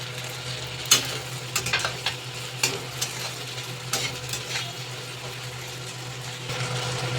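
Cut okra fries in hot oil in a pan with a steady close sizzle, punctuated by scraping clatters of a spoon stirring, with no talking.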